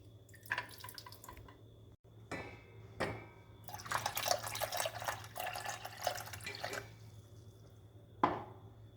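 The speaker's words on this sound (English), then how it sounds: "I will pour the water on the side and fill it till half" Water is poured into a vessel holding glass jars, with intermittent splashes and gurgling bursts, some longer pours and short drips, fairly quiet and close.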